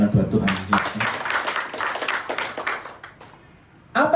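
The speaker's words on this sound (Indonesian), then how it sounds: "Tepuk tangan buat Tuhan." A church congregation at a Sunday service claps together, dense rapid hand claps that swell and fade over a few seconds before a voice cuts back in.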